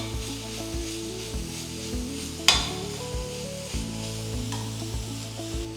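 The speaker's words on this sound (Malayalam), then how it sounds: "ഈ സമയത്ത് ഒരു 2 ടീസ്പൂൺ നെയ്യ് ഒഴിച്ചു കൊടുക്കാം. ഇത് നന്നായിട്ടൊന്ന് മിക്സ് ചെയ്യുക." Grated carrots stirred with ghee in a pan for carrot halwa, a steady broadband sizzle with a sharp scrape or clink near the middle and recurring stirring strokes, close and moderately loud, no voices.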